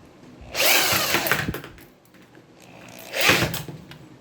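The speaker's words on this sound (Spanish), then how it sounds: "Enciendo el taladro a una velocidad lenta" An electric drill whirs at low speed in two short bursts, bending wire for a homemade TV antenna, each winding up and then running down, with a quiet gap between.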